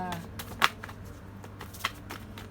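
Tarot cards being shuffled and drawn make soft papery rustles with two sharp flicks standing out, quiet and close, while someone talks in the background.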